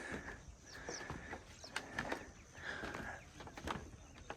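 Birds chirping in a clean village in Assam near a wetland, faint scattered calls and short trills at a distance over quiet outdoor background.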